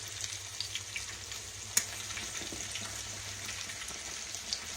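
Whole catfish frying in hot oil, a steady close crackling sizzle with light popping and one sharp spatter, no talk.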